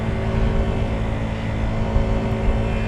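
A CFMOTO 300SS motorcycle hums steadily while being ridden through corners, its engine drone heard continuously with wind noise and no speech.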